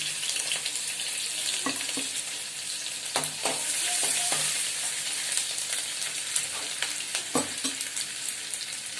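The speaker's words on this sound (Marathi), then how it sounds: "तेल बघा आपलं झालंय गरम। आपण त्यात ना लसूण आणि आलं टाकलंय चेचून।" Crushed garlic and ginger fry in hot oil for a Malvani-style egg curry, giving a steady, close sizzle. A few scraping stirs and soft clunks break through the sizzle.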